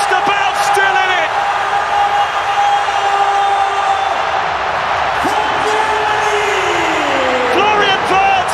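A stadium crowd roaring after Germany's equaliser in a football match, a loud, sustained wall of cheering and whoops with whistles cutting through.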